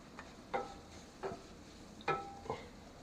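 Sliced scallions go into a pan of onions and sweet peppers for Jamaican curry shrimp, with a few soft sizzling stirs and utensil scrapes in separate bursts over a quiet background.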